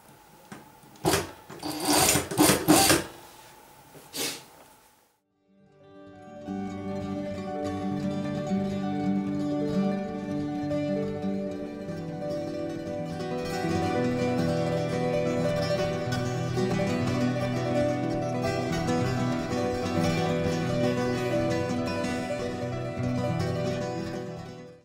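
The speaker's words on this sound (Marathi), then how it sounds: "याप्रमाणे आपण बाही शिवून घेतलेली आहे" A sewing machine stitching a safari collar jacket sleeve: a few sharp handling knocks, a brief pause, then a long steady mechanical whir of the motor running continuously at close range.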